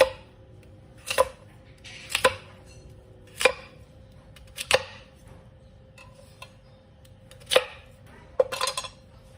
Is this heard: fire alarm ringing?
no